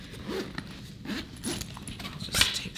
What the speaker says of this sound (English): So let's zip that back up.